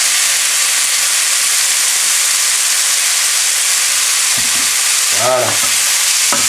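Mushrooms and glass vermicelli sauté in a hot pan for a pad woon sen stir-fry, a loud, constant sizzle and hiss filling the scene, with a brief spoken word and a few scraping stirs near the end.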